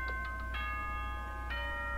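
A short electronic announcement chime from the Danganronpa video game rings out over steady background hum, with a few bright chime strikes at the start and another partway through.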